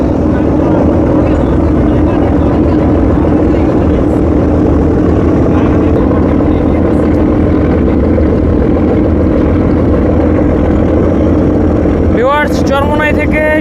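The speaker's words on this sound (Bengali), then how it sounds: "এই মুহূর্তে সুরভি 7 একটি একটি করে লঞ্চ ওভারটেক দিবে" The Surovi 7 passenger launch pushes upriver overtaking other launches, its engine a loud steady droning hum throughout, with a brief sharp higher whine near the end.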